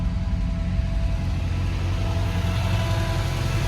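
A 1971 MG Midget engine idles steadily up close, a constant mid-pitched rumble with a faint whine from an electric cooling fan running alongside, no speech.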